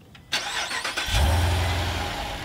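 A Jeep Grand Cherokee Trackhawk fires up close by, a sharp starter burst settling within a second into a loud, steady low exhaust rumble at idle.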